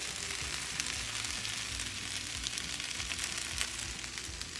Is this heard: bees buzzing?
no